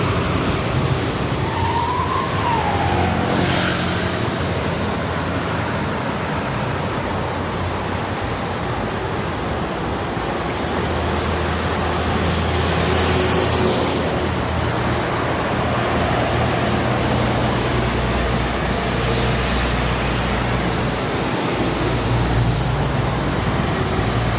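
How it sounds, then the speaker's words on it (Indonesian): Busy traffic on the Jakarta–Cikampek toll road during school holidays, a steady loud roar of passing vehicles with wind-like rushing and occasional louder passes, no talk. "volume kendaraan terus meningkat yang ke arah timur"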